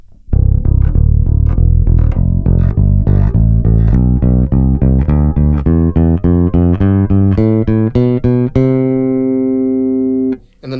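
Electric bass strings on an Epiphone Toby Deluxe V plucked one after another in a steady run of sustained notes, loud and close, with the pickup blend set to a notched tone and a long final ringing note.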